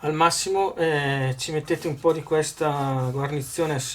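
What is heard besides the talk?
No distinct noise like a dog, phone or traffic.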